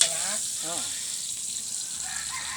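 Garlic and onion frying in a pan at an outing, a steady broadband sizzle that holds at even loudness throughout, with voices talking briefly over it near the start.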